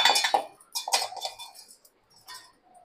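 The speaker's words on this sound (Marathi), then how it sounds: "आता मी हे मिक्सरच्या भांड्यामध्ये टाकते।" Cumin, coconut and garlic dropped into a mixer grinder jar, short clattering bursts and clinks of solids hitting the jar, close and loud, in three quick clusters with brief pauses between.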